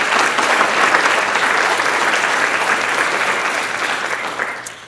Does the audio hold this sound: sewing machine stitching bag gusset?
no